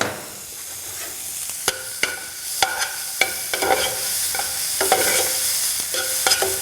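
Peppers frying in a little oil in a pan, crisp sizzle under a series of sharp, regular utensil taps and scrapes against the pan, close and clear.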